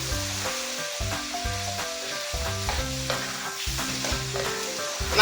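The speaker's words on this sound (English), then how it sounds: "I'll give this a beautiful stir" Nigerian fried rice with spices being stirred and sizzling in a pot, a steady frying hiss with scraping stir strokes and no talking.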